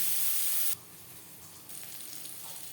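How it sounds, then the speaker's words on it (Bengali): Chopped onions sizzle in a pan with green chilli, salt and turmeric, giving a steady hiss after a louder spray at the start. "পেঁয়াজ লালচে করে ভেজে নেব"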